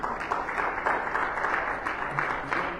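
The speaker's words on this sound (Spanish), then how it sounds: "¿Cuántos le dan un aplauso fuerte a ese Cristo Jesús?" A church congregation applauds at a Spanish-language Sunday Bible study service, steady clapping held at a moderate, slightly distant level for a few seconds.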